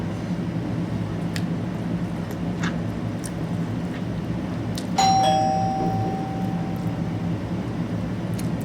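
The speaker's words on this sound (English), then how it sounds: "The doorbell's ringing." A doorbell chimes once indoors, a clear two-tone ring that rises over steady room noise and lingers a couple of seconds before fading.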